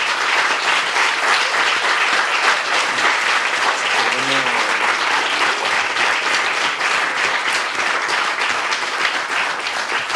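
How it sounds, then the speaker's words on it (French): A festival audience at a talk in Mâlain gives a loud, sustained round of applause, dense and steady for about ten seconds with a brief voice partway through. "Je pense qu'on peut encore t'applaudir."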